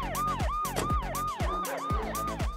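A loud, close siren wails in rapid rising-and-falling sweeps, repeating about every half second, with low thumps beneath.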